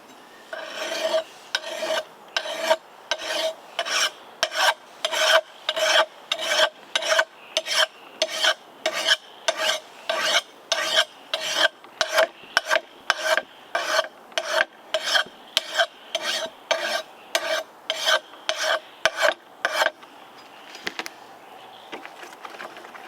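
A hand file strokes along an axe edge in a long, steady series of about thirty rasping passes, each a crisp metallic scrape with brief gaps between, close and clear with no speech, ending in a few lighter strokes.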